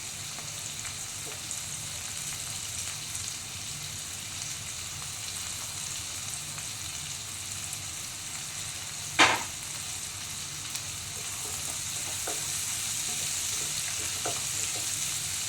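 Shredded cabbage and carrot stir-frying for chowmein, a constant close sizzle with occasional stirring clatter and one sharp metallic knock partway through, no voices.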